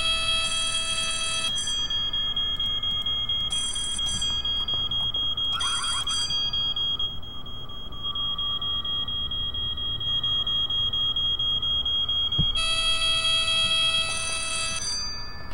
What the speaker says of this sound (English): The alarm is not off, it's on.